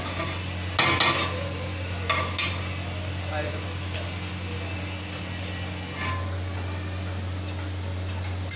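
Cooked Sindhi biryani rice mixed in a pot, with a few scraping and clinking spoon strokes near the start and scattered softer taps over a steady background hum.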